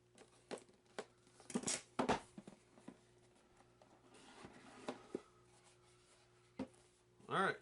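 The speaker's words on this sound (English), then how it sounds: "this is just held up with some little tape here, so let's open this up" A taped cardboard box for the 2022 Funko Disney Mad Tea Party board game being opened, with scattered crinkling, tearing and rustling bursts, close and fairly quiet, mixed with brief speech.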